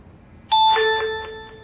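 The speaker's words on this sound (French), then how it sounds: "Cloche à sonner." A doorbell rings out loud and clear in a quiet room, a single bright chime with a few sustained tones that ring on and slowly fade.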